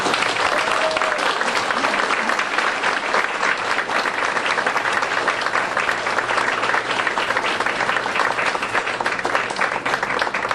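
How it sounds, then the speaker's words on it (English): At a town meeting in Elkton, Maryland, the room breaks into steady, prolonged applause for a scholarship recipient, many hands clapping evenly throughout with a brief voice rising above the clatter near the start. "Let's have a round of applause."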